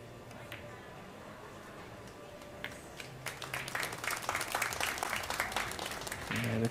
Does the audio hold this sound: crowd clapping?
yes